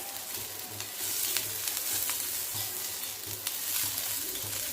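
Onion, garlic cloves and green chillies sautéing in a pan for a moong dal vadi curry, an even hissing sizzle with rhythmic low scraping stirs, close and unbroken by speech.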